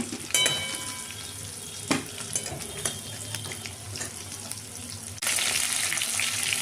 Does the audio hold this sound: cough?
no